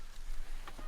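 Canada geese honk in a short burst over Alberta fields during a waterfowl hunt, a couple of faint nasal calls heard from a distance.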